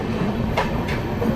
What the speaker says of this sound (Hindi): हमारी संपूर्ण क्रांति दानापुर के प्लेटफॉर्म नंबर 3 से दानापुर रेलवे स्टेशन को स्किप कर रही है स्लोली